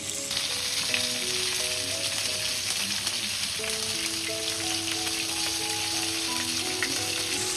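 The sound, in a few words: Bombay duck (bombil) fish frying in a pan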